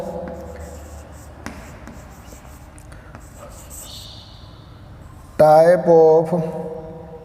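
Pen writing math notes on paper, with faint scratchy strokes near the microphone, followed at the end by a person talking.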